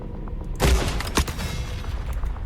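Gunfire from a 9-19 weapon in the video game The Forever Winter: a couple of sharp, loud shots about half a second apart over a low, rumbling game background.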